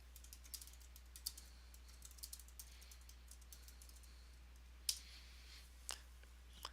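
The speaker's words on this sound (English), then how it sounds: "So I'll type out my first line of text." Soft, quick keystrokes on a computer keyboard tap out a line of text, light clicks in irregular bursts with a couple of louder taps, close and quiet.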